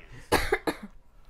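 A single close cough straight into a microphone, two sharp bursts in quick succession and then quiet.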